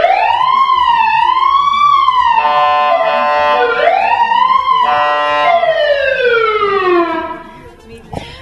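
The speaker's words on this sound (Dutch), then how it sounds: "En deze politieauto kan echt hele gave geluiden maken." A rare Los Angeles police car siren sounds loud and close, cycling through slow rising-and-falling wails with a stretch of steady tone between, then fading at the end.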